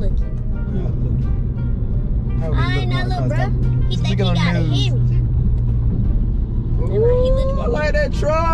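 Car driving along a road, a steady low engine and road rumble running throughout beneath conversation and laughter inside the cabin.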